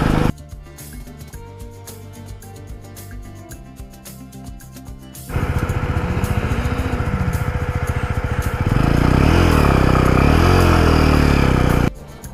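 A motorcycle labours up an offroad mountain track toward Manang, its engine rattling at first, then revving louder and higher with rising and falling pitch before cutting off abruptly.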